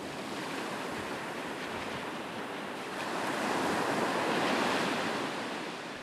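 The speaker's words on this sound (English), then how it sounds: "Number 3 for me was just crashing waves." Ocean waves crash and wash continuously onto the shore, a steady, loud roar of surf that swells midway, with no voices.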